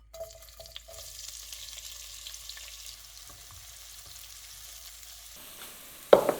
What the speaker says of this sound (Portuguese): Pimentão e cebola bem refogados.